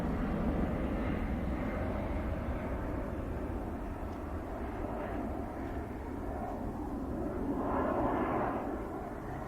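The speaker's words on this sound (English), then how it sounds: "I'm going to concentrate on the aircraft for the moment" A military jet passes over RAF Coningsby airfield, a broad, distant roar that holds steady and swells slightly toward the end.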